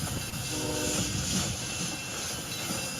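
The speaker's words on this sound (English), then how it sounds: "The horn you hear in the background is the Blue Island freight crossing across from here." Freight train rolling through the Blue Island crossing near Chicago, a continuous rumbling roar with a brief horn tone partway through, heard steadily from nearby with no talking.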